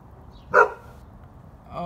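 A single short dog bark sounds at mid distance outdoors under cloudy skies, brief and fairly loud against quiet background noise, with a voice starting at the very end.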